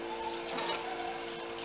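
Warm tap water runs steadily into a kitchen sink to rinse and strain cooked spaghetti, a continuous close hiss and splash with no pauses.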